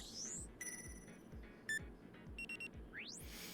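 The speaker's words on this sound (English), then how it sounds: "My coil suddenly beeps." Coil device beeping in the visual novel game DRAMAtical Murder: faint, short electronic bleeps in a quick cluster, followed by a rising chirp, over a quiet, softly pulsing background.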